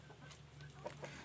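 Free-range village hens cluck softly and intermittently inside a coop, with low, scattered calls over a steady background hum, fairly quiet and without talking.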